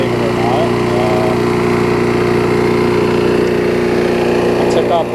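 A push lawn mower engine, a Murray or Toro, running on a new carburetor after repair, a loud close steady drone with a faint mechanical rattle.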